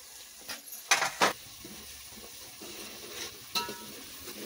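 Ginger garlic paste sautéing in a pan on a wood-fired village stove, a soft sizzle under a few sharp scrapes and clinks of a spoon stirring against the pan, quiet and intermittent.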